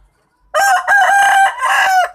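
A fighting rooster crows loudly and close, one full cock-a-doodle-doo call in three drawn-out segments that starts after a short silence.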